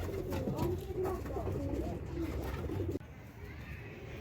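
Domestic pigeons in a loft coo in low, repeated throaty rolls that are close and moderately loud, with the background dropping suddenly near the end.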